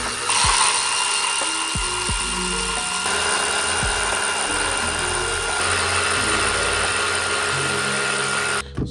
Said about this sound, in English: Switch this lever and we'll go loose. First, we'll break these loose